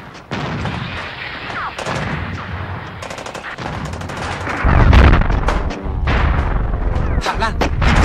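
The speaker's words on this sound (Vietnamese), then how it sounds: "bắn liên tục ngay trên đầu tôi" Sustained artillery and machine-gun fire directly overhead in a combat scene, loud rolling booms and rapid bursts packed together with a heavy thump near the middle, dense and close.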